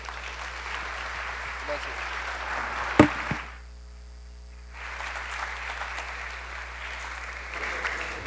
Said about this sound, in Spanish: les pido a todos los concurrentes que los despidamos con un fuerte aplauso